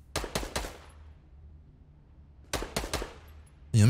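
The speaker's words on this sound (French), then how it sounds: "Il y a un mec qui tire juste là, là" Automatic gunfire in a video game comes as two tight bursts of rapid shots, each a quick rattle of several rounds with a short ringing tail and a quiet pause between them.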